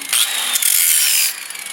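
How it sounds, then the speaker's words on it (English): A flat file scrapes over the metal cutting deck of a Simplicity Sunstar mower, one loud rasping stroke of about a second, close up and with no talk. "And maybe I'll take a file, flat file. And just treat it."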